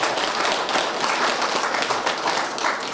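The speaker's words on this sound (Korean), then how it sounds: "우리 선생님들께 큰 박수 한번 부탁드리겠습니다." An audience applauds tea ceremony performers at a shrine memorial rite in Boseong, a dense, even patter of many hands clapping steadily throughout, moderately loud with no voices over it.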